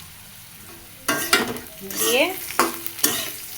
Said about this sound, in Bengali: কচুরলতি খুব সুন্দর মতো ভাজা হয়ে গেছে